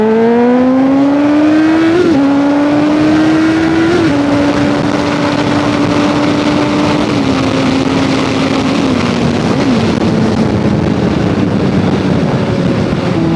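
A Honda CBR600RR engine under throttle rings loud and close as a continuous high whine, its pitch rising and stepping through shifts and then easing down on a country ride.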